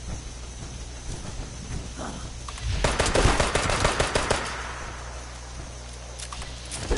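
Rapid bursts of automatic gunfire from a firefight against scorched enemies in the Fallout 76 video game on PlayStation 4, a dense rattling volley swelling midway and tapering off over a steady background hum.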